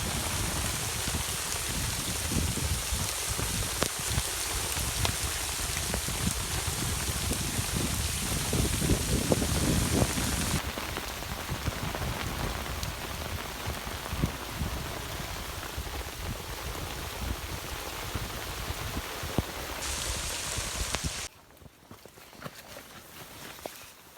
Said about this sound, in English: Now is a freezing rainstorm.